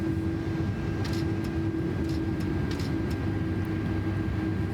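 Airbus A330 jet engines in MSFS 2024 spool up as the throttle opens, a steady loud low drone with a constant whine and faint clicks above it, no talking.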